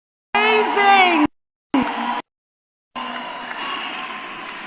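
A crowd at a Johannesburg mayoral campaign launch lets out a loud voiced whoop and a short shout, then settles into a steady wash of applause and cheering that carries on to the end.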